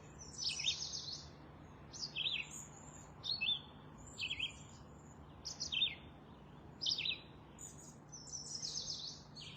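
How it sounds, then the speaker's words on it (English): Short bursts of high, bright birdsong repeat every second or so over a faint steady hum, with quiet gaps between the phrases. "And the sound of the birds"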